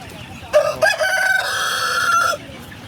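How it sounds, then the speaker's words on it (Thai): Native village chickens at a tribal morning market in Vietnam, with a rooster crowing clearly and nearby, preceded by a few short clucks, over a faint market background. "นี่คือไก่บ้านแท้ๆนะ"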